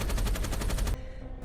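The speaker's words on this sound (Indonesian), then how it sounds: "The Bullet Farmer menembakinya" Rapid machine-gun fire from the Bullet Farmer in a Mad Max: Fury Road chase scene, a loud, fast burst of evenly spaced shots that cuts off abruptly, leaving a faint tail.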